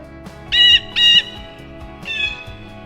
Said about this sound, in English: Next, we have the jaybird.